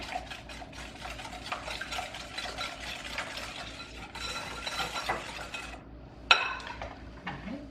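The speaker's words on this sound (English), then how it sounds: "Whisk that in until it's just incorporated." A whisk beats vanilla extract into ice cream sandwich batter in a bowl, giving a fast, continuous run of close metallic clicks and scrapes that stops before a single louder clink near the end.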